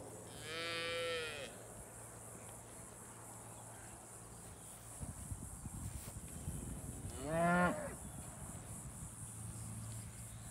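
Brangus cows in an open pasture give two drawn-out moos, the first farther off and the second louder and nearer, with insects buzzing and chirping steadily in the background.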